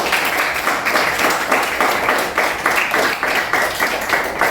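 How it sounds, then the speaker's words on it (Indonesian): Children in a classroom clapping together, a loud, fairly rhythmic patter of many small hands that keeps going at a steady pace. "Baik, tepuk tangan anak."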